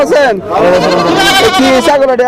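A goat bleats loudly and close by at a livestock market, a long wavering cry lasting a couple of seconds.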